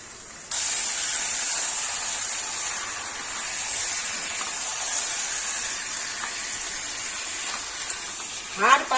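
Chicken pieces with liver, capsicum chicken ingredients, drop into a hot wok and sizzle in a sudden steady hiss that continues evenly, ending with a brief stir and clatter.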